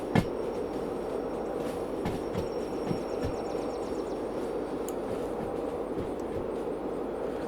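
Uncoupled railroad cars rolling freely on track in the Derail Valley game, a steady rumbling roll with periodic rhythmic clacks over rail joints and faint high wheel squeal.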